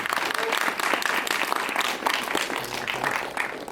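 An audience at a film premiere claps steadily throughout, a dense, fairly distant sound of many hands from a crowd.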